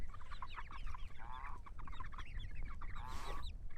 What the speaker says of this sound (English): Some happy chickens.